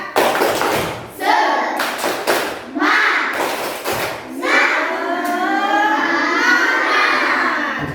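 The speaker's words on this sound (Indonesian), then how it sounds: "Ibu punya tepuk semangat. Tepuk semangat." Classroom of children performing a rhythmic spirit clap on a teacher's cue, sharp bursts of group clapping and thumps broken by pauses, with children's voices and chanting mixed in, loud and close.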